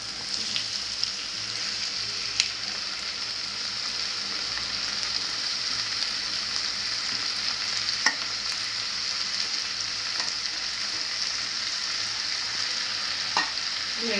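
Onion and tomato sautéing in a pan for dhaba-style egg bhurji, giving a steady, close sizzle with intermittent scraping stirs throughout and no talk.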